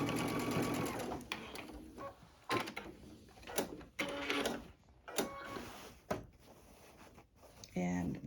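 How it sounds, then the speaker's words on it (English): A sewing machine stitches straight across a bag in a home sewing room, running in several quick bursts with short pauses between them, fairly close and clear. "I'm going to sew right across there."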